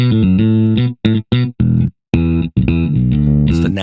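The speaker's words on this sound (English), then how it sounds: "I've got the soft distortion," Electric bass through the soft distortion setting of Logic Pro's Bass Amp Designer plays short, gritty sustained notes in a broken rhythm with brief gaps, loud and close, ending with a brighter, noisier burst.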